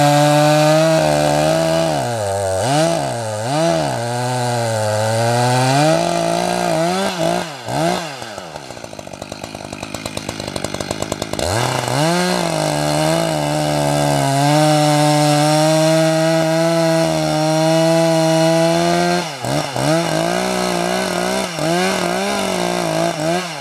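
A chainsaw cuts into a white spruce in a woodlot, its loud, close engine bogging and rising in pitch as it works through the trunk, then revving freely before cutting again.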